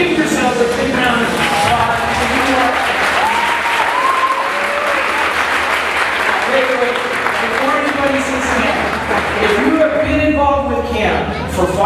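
A large audience at a Camp Ronald McDonald for Good Times 35th anniversary event claps loudly and continuously, dense applause filling the room with some cheering and voices mixed in.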